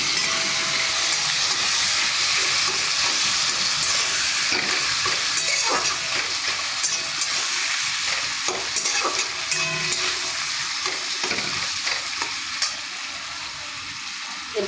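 Fried potato and onion tossed into a hot pan crackle and hiss loudly, with repeated scraping stirs of a spatula cutting through the steady sizzle, easing slightly toward the end.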